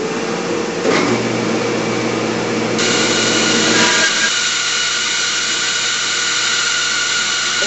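A 14-inch bandsaw runs steadily while resawing a board for a navy sea chest carcase, a loud close whine and hiss whose tone shifts as the blade enters and bites into the wood, with no talk.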